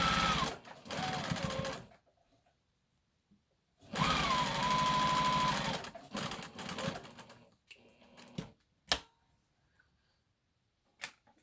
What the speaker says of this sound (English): I'm just gonna stitch across the edges there just to secure it